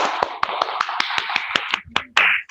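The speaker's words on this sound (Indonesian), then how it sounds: "Beri tepuk tangan untuk Rifan." A run of sharp, evenly spaced claps, about ten in a row, close by, ending with a slightly louder final burst.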